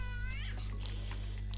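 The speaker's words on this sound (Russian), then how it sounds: "А, это коты." Cats meow in the video game S.T.A.L.K.E.R. Misery, a loud close caterwauling yowl at the start over a steady low game hum, then fading into the background drone.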